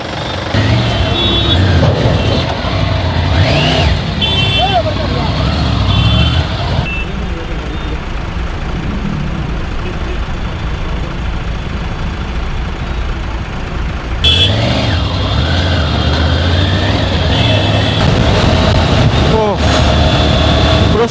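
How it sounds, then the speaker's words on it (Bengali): Road traffic jam with cars and trucks idling and inching along, a loud continuous engine rumble with horn-like tones and reversing beeps, heard from a motorbike while someone talks over it. "বাপরে বাপ, এই কি জ্যাম!"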